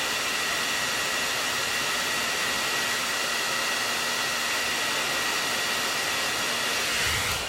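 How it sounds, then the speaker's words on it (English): A blow dryer runs continuously, used to warm an eyelash curler during a makeup routine; a loud, steady airy roar with a faint whine, unbroken, with no talking. "I brought my blow dryer right here, and we're just gonna turn it on"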